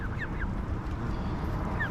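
Geese honk by a fishing lake, a few short calls scattered near the start and one more near the end, fairly faint over a steady outdoor background rumble.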